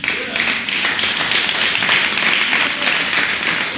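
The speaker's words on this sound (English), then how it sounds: "Anybody clap your hands?" Audience clapping hands together at a live event, a dense steady wash of applause that carries on without a break, with faint voices mixed in.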